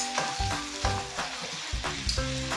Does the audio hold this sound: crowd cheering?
no